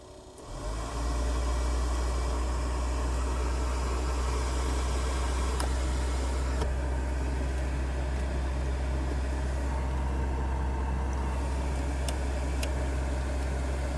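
A refurbished car heater motor assembly starts up and runs steadily, a constant low electric hum with airy fan rush that holds level for the whole stretch, with a couple of faint clicks along the way.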